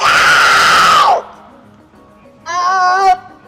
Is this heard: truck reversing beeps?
no